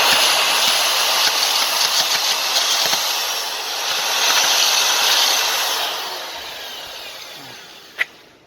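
Hand-sanding a piece of wood for a homemade wooden microphone stand, without a vise: a steady, loud abrasive hiss of sandpaper scraping the workpiece, easing off toward the end, with a single sharp knock near the close.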